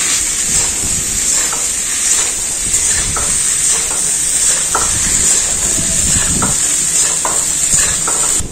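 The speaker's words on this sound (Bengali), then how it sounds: "এই সবজিগুলো সব ভাজা হয়ে গেল" Potatoes, cauliflower and beans fry with salt and turmeric in a pan for khichuri, giving a loud, steady sizzle throughout with irregular stirring scrapes and clatters punctuating it.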